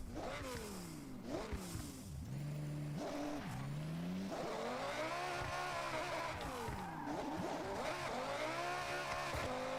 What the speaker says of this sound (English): Wow, the supercharger on this thing sounds crazy.